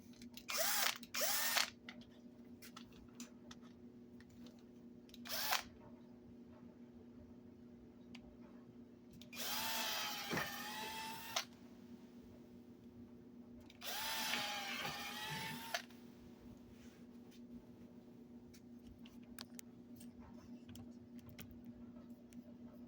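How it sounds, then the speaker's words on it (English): A battery power drill bores screw holes in wood for a small wooden table, with several short whirring bursts followed by two longer sustained drilling runs, close by, with a steady low hum between them. "now I'm going to drill the holes."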